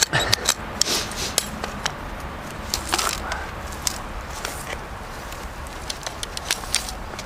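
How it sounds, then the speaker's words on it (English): Sharp metallic hammer strikes driving a trap stake into the ground, irregular but frequent, ringing over a low outdoor rumble; close and fairly crisp. "Drive my stake in, pretty much in the center of the trap bed."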